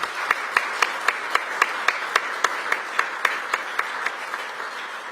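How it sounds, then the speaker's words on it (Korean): Audience at a Korean community gathering in Belgium claps in unison to welcome the president and first lady: a steady rhythmic beat of synchronized claps, evenly spaced and moderately loud, running the whole time. "우리에게 이 감동을 선물해 주신 대통령님과 여사님께 큰 박수로 환영을 부탁드리겠습니다."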